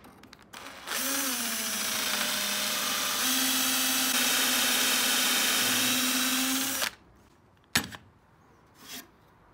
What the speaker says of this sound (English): drill them out with a doweling bit with a little stop on it